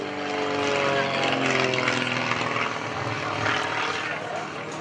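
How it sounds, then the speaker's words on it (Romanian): An aerobatic airplane flies vertical maneuvers over the runway at an air show, its propeller engine droning steadily and loudly throughout, with a slight wavering rise and fall. "fiind un avion cu viteză mai mică decât extra, el evoluează pe verticala pistei mai rapid și pe o rază mai mică de desfășurare"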